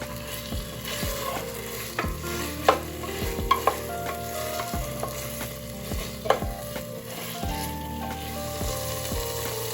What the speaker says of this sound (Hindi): इसमें अब मैं टमाटर और बाकी सारे मसाले डाल के इसको अच्छी तरीके से भून लूँगी